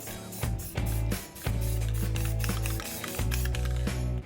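Bursts of spray paint hiss in several separate passes, loud and close, as a coat goes onto BMW E36 rear brake parts.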